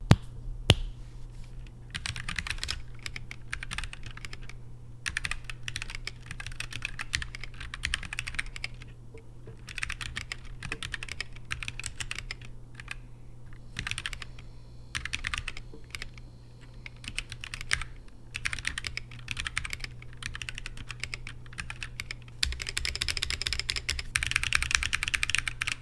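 Typing on a Halo 75 mechanical keyboard, a close, steady run of crisp clacking keystrokes in quick irregular bursts with short pauses, heard alone throughout, growing slightly louder toward the end.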